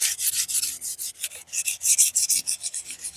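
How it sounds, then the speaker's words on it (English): Polish is rubbed by hand onto the rusty frame of a 1994 Mongoose Expert Pro bicycle, producing rapid rhythmic scrubbing strokes, close and loud, one after another without pause. "I'm gonna rub it gently."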